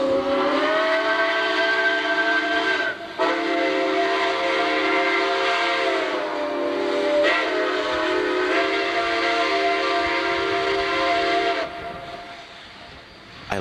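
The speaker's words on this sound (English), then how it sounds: "From outside came the sounds of hissing steam and squeaking metal." Loud, sustained hissing with a whistling, squealing metallic tone that shifts pitch, broken by brief drops and fading near the end.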